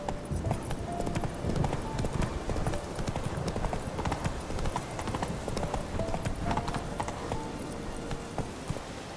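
Horse hooves clip-clopping in The Witcher 3, a steady rhythmic trot of hoofbeats under faint background music, moderately loud and continuous.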